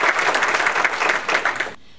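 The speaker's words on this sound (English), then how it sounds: "Yeah, you can clap that too." An audience at a mental health talk claps loudly and densely for nearly two seconds, then the applause cuts off abruptly into near silence.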